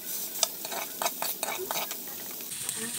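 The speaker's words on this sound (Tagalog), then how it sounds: "ilagay natin yung karne sa malinis na kawali" Meat sizzles in a clean frying pan for pancit gisado, with a steady hiss broken by repeated scraping stir strokes close by.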